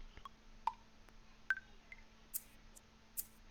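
Ableton's click type 6 metronome ticks out a few sparse, bright pitched clicks at an even pace, faint against a quiet background, with no talk.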